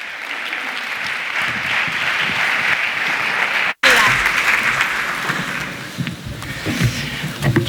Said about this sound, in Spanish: Demos un fuerte aplauso a nuestra alcaldesa, Paloma Tejero.